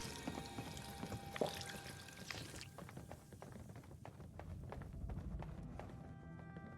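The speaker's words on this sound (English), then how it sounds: "we can have a drink of water at the sink." Water runs from a sink in Fallout 4, a steady pouring wash with scattered small taps and clicks over it, moderately loud and continuous throughout, no talk during it.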